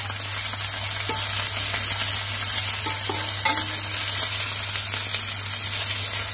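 Onions and capsicum stirred and fried in a pan over a high gas flame, a steady loud sizzle with scraping stir strokes throughout and no talking.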